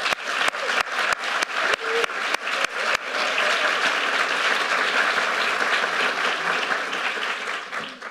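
A few separate, evenly spaced claps start things off, then a full audience joins in with warm, sustained welcoming applause that fills the room for several seconds before easing slightly.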